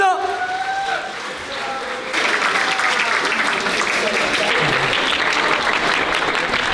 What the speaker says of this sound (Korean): 승리하신 장 선수께 큰 박수 부탁드리겠습니다